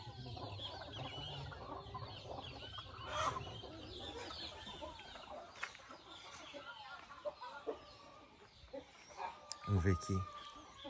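A brooding hen on a nest among many nests clucks softly and repeatedly nearby, with other fowl faintly audible while people talk quietly over it.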